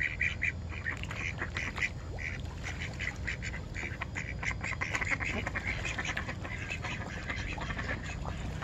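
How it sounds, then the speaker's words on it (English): Ducks at a pond where giant carp are being fed keep up a steady chorus of repeated quacks, fairly close and overlapping, with no voices over them. "Now the ducks are talking."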